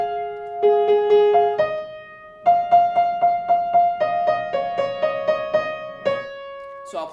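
A piano plays a slow, simple passage: held bass notes under a repeating melody of single treble notes. The notes are clear and close, with a brief pause partway through.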